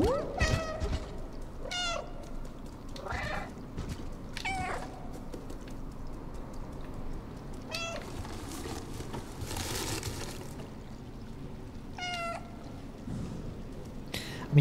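Several distinct cat meows from the video game Stray, spaced irregularly across the stretch over a steady ambient game background, fairly close and clear, with one longer broadband swell midway.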